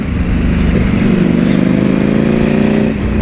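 A Ducati Panigale V4 Speciale with 226 horsepower pulls hard from low revs in a high gear, its engine a loud, rough, juddering growl that climbs steadily for a few seconds right next to the listener.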